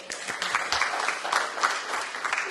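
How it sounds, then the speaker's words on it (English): Audience clapping at a non-ferrous metals industry conference, steady dense applause from a crowd filling the whole stretch without a break. "We need a clap for that."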